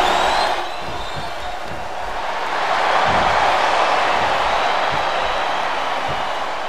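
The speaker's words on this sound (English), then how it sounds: "I think these superstars are getting some feedback from the crowd, JR." A large crowd in the wrestling video game Smackdown vs. Raw 2008 roars and cheers steadily, the noise swelling louder midway and holding as a dense, continuous wash with occasional thumps beneath.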